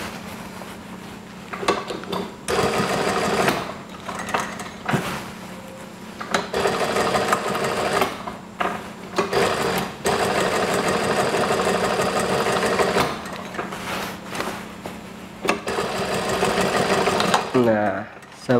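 A sewing machine stitches a scout badge onto fabric, running in loud, steady whirring bursts with short stops between runs and a mechanical clatter near the end; a voice is heard now and then.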